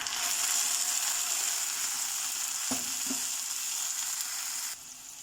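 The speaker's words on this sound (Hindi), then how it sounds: "ये देखिए प्याज लाल हो गया, तो इसमें अब हम टमाटर ऐड कर देंगे" Tomatoes fry in hot oil with reddened browned onions for a ridge gourd moong dal, giving a loud, steady close sizzle with a couple of brief stirring knocks near the middle before the hiss drops slightly at the end.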